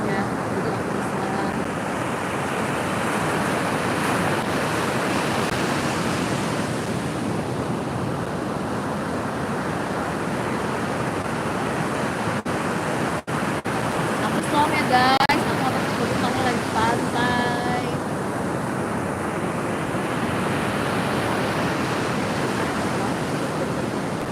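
Ocean waves wash onto a beach as a steady, loud surf hiss with wind buffeting the microphone, and brief voices and small clicks come through midway.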